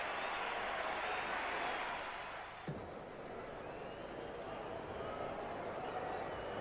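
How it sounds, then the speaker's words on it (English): Crowd applause from a large cricket stadium, the MCG in Melbourne, during a 1985 match against Pakistan: a steady, distant wash of clapping and crowd noise that continues unbroken, slightly dipping midway, heard through an old broadcast hiss. "a warm ovation for him from this MCG crowd"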